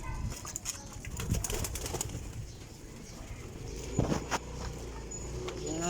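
Pigeons coo softly and continuously close by. Occasional quick wing flaps and light rustling break through, with a slightly stronger flutter near the end.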